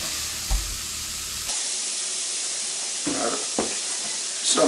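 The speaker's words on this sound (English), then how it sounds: "Sometimes I'll put a little bit of bacon grease in there just to kind of help me brown the onion." Onion browning in a pot with a little bacon grease for homemade chili, giving a steady close sizzle and hiss, with a few brief clinks or stirring knocks partway through.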